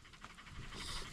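A dog pants quickly and softly at close range while being fed outdoors on a farm during an outdoor cooking session, with no talking over it.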